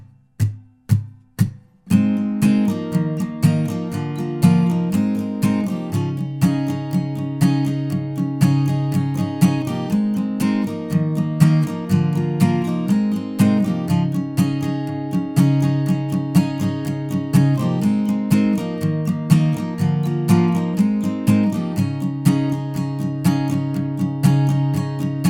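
Strummed acoustic guitar chords for the pre-chorus, a steady rhythmic pattern with repeated chord changes that rings out clearly and alone after a few opening strikes.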